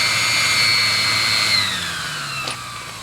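A Chinese diesel water heater whirring loudly as it spins up with a rising fan-like whine that settles into a steady run, with a brief click partway through.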